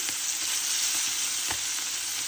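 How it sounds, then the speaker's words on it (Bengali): Pieces of river fish fry in hot oil, giving a steady, close sizzle with a few faint pops and no speech. "তো একে একে মাছের পিসগুলো দিয়ে দিব। আমি হালকা করে একটু ভেজে নিচ্ছি।"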